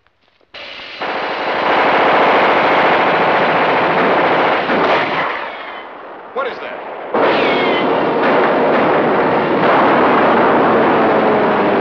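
A 1950s movie studio's recorded battle soundtrack, right out of the sands of Iwo Jima, plays loudly: dense sustained machine-gun fire and explosions roaring continuously, dipping briefly midway before resuming at full intensity.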